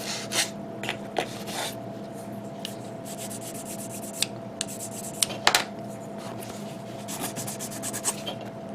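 A 1000 grit sanding stick rubs across a soft, flat plastic part of a 1/60 Mazinger Z model kit, giving quiet repeated scraping strokes over a steady low hum.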